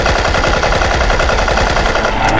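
Rapid automatic gunfire from the video game Project IGI, loud bursts of rattling shots in quick succession with no speech.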